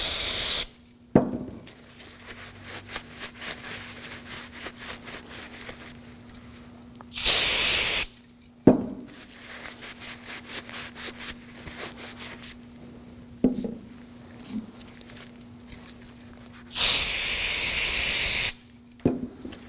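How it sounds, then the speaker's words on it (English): A can of brake parts cleaner sprays onto the caliper sliders of a 2014-2020 Acura MDX during a front brake job: sharp, loud hissing bursts, two of them long and steady, with quieter workshop handling between them. "Using some brake parts cleaner,"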